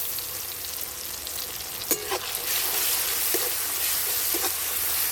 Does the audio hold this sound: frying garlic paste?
yes